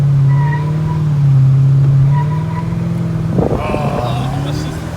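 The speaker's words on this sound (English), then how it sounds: "Show the burnouts now." A 2005 Toyota Crown Majesta V8 doing a burnout, a loud, close, steady engine drone held at high revs that shifts near the end into rougher tyre noise.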